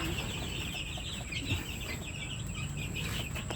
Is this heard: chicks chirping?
yes